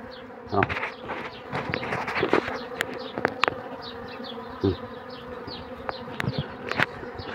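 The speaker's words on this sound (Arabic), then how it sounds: "شوف كميه النحل بقت قد ايه." Large numbers of honeybees buzzing at a hive entrance, a close, continuous droning hum with individual bees whizzing past the microphone.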